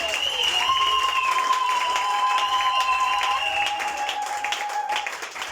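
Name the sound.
applause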